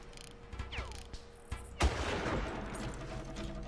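Several sharp gunshots crack at irregular intervals in the PC game Far Cry (2004), the last one louder and followed by a lingering echoing rumble, game-like and without speech.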